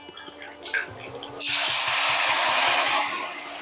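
Two tumblers of tamarind water are poured into a cooking pot for varagarisi puli pongal, a few soft clinks and drips followed by a steady splashing rush of liquid lasting a couple of seconds, close and clear.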